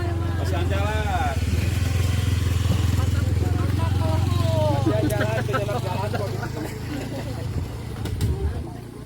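A motorcycle engine drones steadily and close on a rural road toward Godog in Karangpawitan, with voices talking over it as the engine sound eases toward the end.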